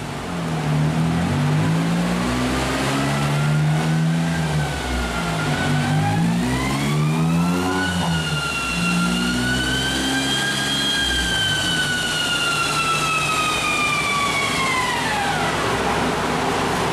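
A small engine with no air intake revs hard on a dyno, held loud and close. Its pitch climbs in waves, holds at a high strained whine, then falls away near the end, with no talking over it.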